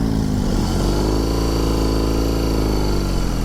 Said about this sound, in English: It's their biggest Boxer engine right here